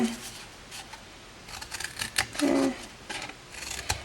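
Scissors snip the corners of a sheet of cardstock in short, close, crisp cuts, with light paper handling between the snips.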